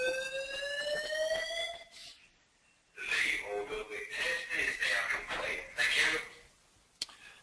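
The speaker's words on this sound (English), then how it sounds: "You're going to get beeps coming through here. This is, sorry about that, folks. I'm in a university building and we're having a fire test." Electronic fire alarm beeping inside a university building during a fire test: a loud, steady harmonic tone that cuts off, then returns as a harsher repeating alarm, with a person talking over it.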